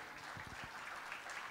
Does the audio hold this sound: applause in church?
yes